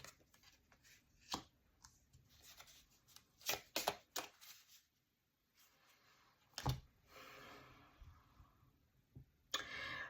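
Tarot cards shuffled and drawn during a reading, crisp riffles and sharp slaps of card on card in irregular bursts, close and quiet with no voice.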